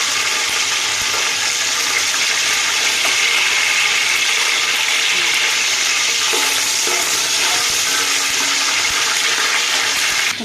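Whole spices such as bay leaf, cardamom, cloves, cinnamon and marathi moggu fry loudly in a pot for vegetable biryani, a dense constant sizzle with faint stirring scrapes throughout.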